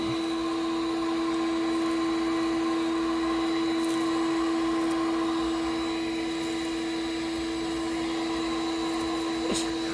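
Shop vacuum sucking steadily through its hose with weak pull, a constant whirring motor drone with a strong steady hum running unbroken and fairly loud throughout, a faint click near the end.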